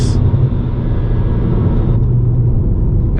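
A BMW E90 335i pulls hard under load after a downshift, with its engine note a steady, loud rumble and whir from inside the cabin throughout, and a brief shift in tone midway.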